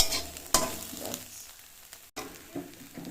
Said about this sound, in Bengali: লঙ্কা পেঁয়াজ একদম ভাজা হয়ে যাবে।